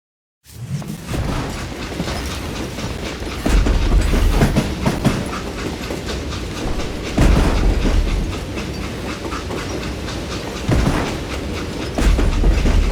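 A train in the Call of Juarez Gunslinger video game rumbles along with loud rhythmic clickety-clack from the wheels and several heavy jolts, continuous throughout with no speech.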